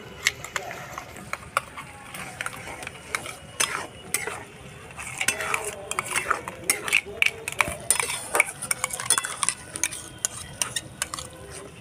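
Curry with yogurt and tomato-onion paste for egg do pyaza stirred in a pan on low heat, a spoon scraping and clinking against the pan in an irregular rhythm, close and continuous.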